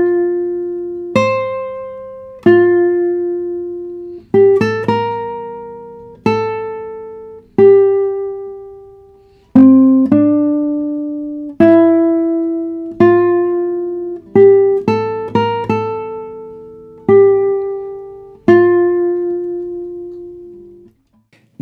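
A solo guitar plays a slow single-note melody moved up an octave, with clean plucked notes sounding one after another in varied rhythm, each ringing and decaying, heard alone and close.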